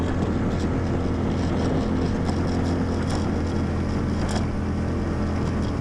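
Hoodoo Hero 130 micro skiff motoring into the wind on open water, a steady close outboard drone with wind buffeting the microphone and spray hiss, continuous throughout with no talk.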